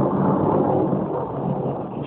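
Thunder rolls during a snowstorm in April 2008 as a steady, dense rumble. It is loud and continuous throughout, with no voices.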